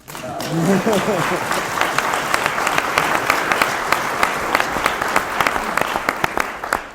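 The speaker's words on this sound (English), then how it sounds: "Ben, you can clap for me, it's okay." An audience claps after a talk on coaching and mental performance, with bright, dense applause running throughout, near and steady, and voices audible within it.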